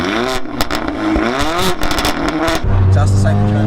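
A Stage 2 440 bhp Mercedes A45 AMG with a Milltek full race exhaust revs hard, loud and close, with sharp pops and crackles, under people talking, and ends in a sustained high-rev roar.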